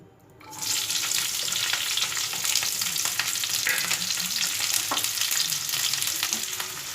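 Onion frying in two spoonfuls of hot oil for a potato fry, a steady close sizzle that starts after a quiet half second and holds with faint stirring scrapes.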